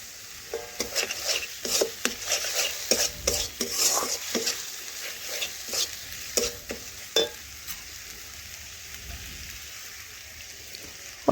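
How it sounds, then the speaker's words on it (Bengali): A spoon scrapes and stirs spices frying in a pan for chicken curry, with a soft sizzle underneath. The stirring strokes come close and irregular, then fade into quieter sizzling near the end. "মিশিয়ে আমি 2 থেকে 3 মিনিট আমি মশলা ভালোভাবে কষিয়ে নেব"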